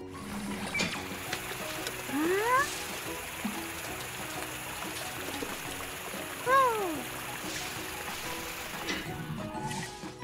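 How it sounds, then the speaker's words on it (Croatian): A cartoon car wash water jet sprays a car with a continuous rushing, splashing stream, joined by rising whistle-like sweeps and a few brief knocks. "Vodena mlaznica za uklanjanje lakših stvari."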